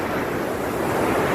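Strong ocean waves crash and wash on a beach in a steady roar, with wind buffeting the microphone close up.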